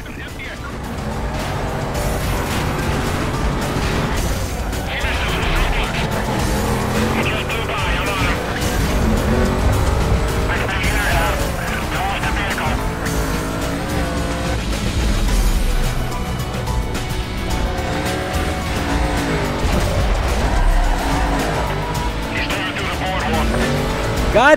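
Racing cars, a Camaro among them, tear through a street race in the video game Need for Speed Most Wanted, with loud sustained engine roar and tire noise running throughout under a game soundtrack.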